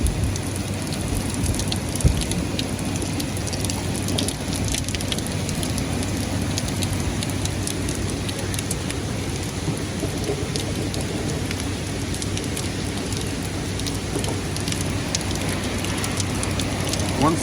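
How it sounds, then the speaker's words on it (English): Heavy wind-driven rain from the remnants of Hurricane Ida lashes down in a dense, continuous roar over New York City, steady and loud throughout, with no clear thunder rising above the downpour. "The rain is blowing sideways. It's not even raining down,"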